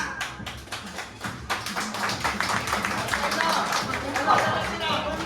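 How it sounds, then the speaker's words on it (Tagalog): An audience at a Christmas party claps for contestant number 1, a dense patter of many hands swelling into sustained applause with voices mixed in. "For contestant number 1, kailangan nyo lang pumalakpak."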